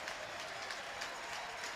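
A college baseball crowd in Starkville is on its feet, cheering and applauding in a steady, distant wash of noise with no clear breaks, during a night game between Mississippi State and Southern Miss.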